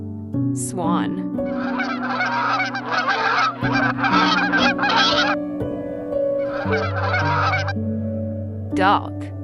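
A swan honks repeatedly in a loud series of brassy, nasal calls. The calls come close together over a steady low background with no talking.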